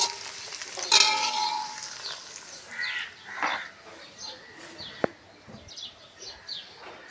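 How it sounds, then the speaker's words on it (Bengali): Bhajia fries in a pan with a soft, steady sizzle and crackle, moderately close, with occasional stirring clatter and a sharp tap, while faint bird calls sound in the background. "আস্তে আস্তে ভেজে নিচ্ছি ভাজিয়াটা দিচ্ছি"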